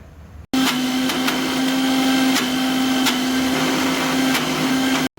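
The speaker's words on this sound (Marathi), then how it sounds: "आता मी मिक्सरचं भांडं ठेवलेलं आहे आणि आता हे मी वाटून घेणार आहे" An electric mixer grinder whirs into life and runs at a loud, steady whine, grinding dry chana dal without water into besan flour, then cuts off abruptly at the end.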